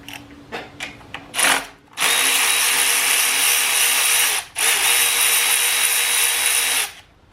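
Ratchet or power driver spinning out valve body bolts on a 47RE automatic transmission during teardown: a few short clicking bursts, then two long loud continuous whirring runs with a brief gap between, close up, no talking.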